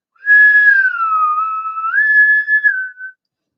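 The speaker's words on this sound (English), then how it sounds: "It was a whistle." A single clear whistle rings out alone, a sustained wavering tone that dips in pitch and then rises again over about three seconds, loud and close against silence.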